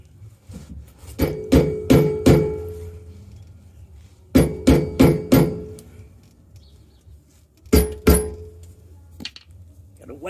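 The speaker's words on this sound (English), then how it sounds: "Gotta whack it with a mallet to get it in place." A rubber mallet strikes a rear bumper hitch on a Toyota Tacoma to seat it, in loud near-field bursts of three to four sharp whacks with pauses between them, while low voices talk in the background.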